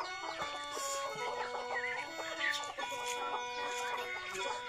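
Chickens cluck in the morning in a rural farmyard, with several hens giving steady overlapping clucks and squawks at close to middle distance, under a faint background hum and with no talk.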